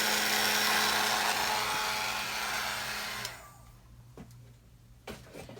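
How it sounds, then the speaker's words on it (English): Heat tool blowing over an acrylic paint pour on a Dollar Tree heart, a steady broadband whoosh that runs for about three seconds and then cuts off, leaving faint handling noises. "heat tool here, and we're going to run that over and see if anything else will pop out with that heat."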